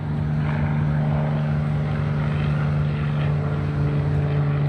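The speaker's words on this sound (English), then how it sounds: "Oh, here's an interesting plane." A propeller airplane flies over San Diego Harbor, a steady droning engine hum with a strong low tone, continuous and fairly loud over harbor ambience, no talk.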